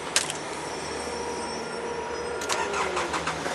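A Nissan Elgrand four-wheel-drive van with 61,710 kilometres starts up with a brief crank, then its engine settles into a steady mid-pitched idle, close and moderately loud, with no talk.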